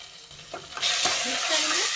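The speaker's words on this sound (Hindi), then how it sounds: "प्याज भुन चुका है, अब हम इसमें अदरक लहसुन का पेस्ट डाल देंगे" Browned onions with ginger garlic paste fry in a pan, a soft scrape of stirring giving way to a steady, loud sizzle that fills the rest of the moment, with faint speech at the start.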